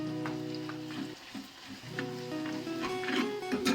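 A spoonful of cumin seeds crackles and sizzles in hot oil for a ripe mango curry, a steady close frying hiss with faint popping and a low hum beneath.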